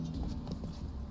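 Horse hooves clip-clopping in The Witcher 3, a steady continuous trot heard close and fairly loud over a low game-world rumble.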